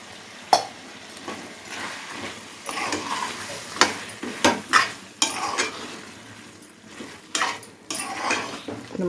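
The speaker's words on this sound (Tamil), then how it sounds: "அந்த மசாலாவை போட்டு நம்ம வந்து நல்லா வதக்கணும்" Freshly ground raw masala sautéed in a pan for pepper bone curry, a low sizzle under loud irregular scraping and clanking of a metal spoon against the pan, close and uneven, no talking.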